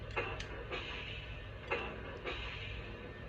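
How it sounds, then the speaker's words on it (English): Metallic clanks of a video game train coupler, a few sharp knocks spaced unevenly over a low steady rumble. "Here is the coupler sound effect."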